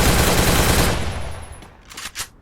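Video game gunfire from a battle royale island match: a dense, loud burst of rapid automatic shots for about a second, then fading into a few sharper isolated shots and clicks.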